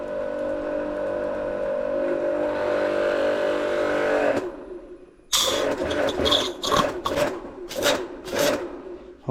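An affordable pressure washer for bikes and cars runs with a steady, loud motor drone, cuts out briefly, then restarts with a series of harsh, hissing spray bursts that surge and fade in an uneven rhythm.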